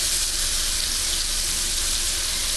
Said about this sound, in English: Nothing but a sizzling forever.